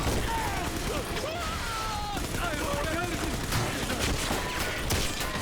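Rapid gunfire from the player's weapon in the video game Bioshock 2 crackles through a dense, continuous wash of in-game noise, with shots running together rather than standing apart.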